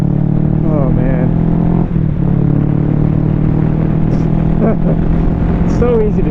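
A Kawasaki Ninja 650 engine rumbles loudly and steadily close to the microphone as the rider shifts and blips the throttle, with brief rises in pitch and a voice speaking over it.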